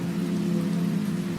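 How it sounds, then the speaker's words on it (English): Steady rain drums on a roof and taps against window shutters at night, a continuous, even patter with a low rumbling body and no breaks, filling the whole stretch alone. "Rain grew heavier as the night went on. It tapped with patience against the shutters, drumming softly on the roof"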